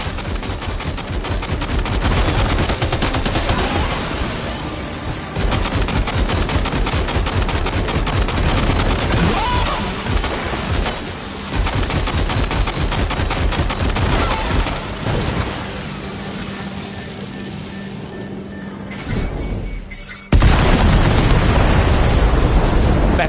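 Sustained gunfire in the video game Death Stranding 2, dense rapid bursts and heavy booms running nearly the whole time, loud and close, ending in a sudden louder blast.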